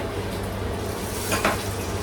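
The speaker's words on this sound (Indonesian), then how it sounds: "Dan sekarang aku goreng dagingnya." Cut beef pieces frying in leftover oil for soto Padang, giving a steady close sizzle with a brief stirring scrape partway through.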